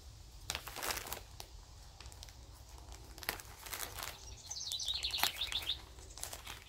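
A pet bird chirps indoors in short, bright bursts, with a quick run of tweets near the middle, over a low steady room hum and occasional soft rustling.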